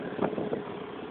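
A motor turns an amusement park ride at Enchanted Kingdom, giving a steady, close mechanical rumble with a few brief louder surges.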